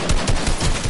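Rapid video game gunfire, a dense rattling burst of loud automatic shots fired in quick succession across a second, close and with no voices.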